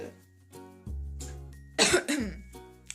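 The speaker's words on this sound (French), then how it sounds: "j'ai vraiment toussé" A few throat-clearing sounds followed by a harsh, loud cough burst near the end, close by.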